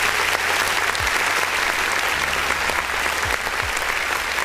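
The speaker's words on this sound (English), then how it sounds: "Come on, let's clap, everybody." A crowd of people claps together in sustained, dense applause, loud and steady throughout, with a low hum and a few faint low sweeps underneath.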